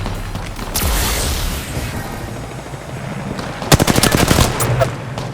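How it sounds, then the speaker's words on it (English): Gunfire in the video game Apex Legends: a loud sustained burst of automatic fire opens, a rushing lull follows, then sharp rapid shots crackle again near the end. "Getting shot."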